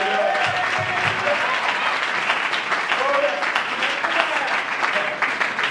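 A church congregation applauds steadily and loudly, the dense clapping filling the room throughout while voices call and speak over it.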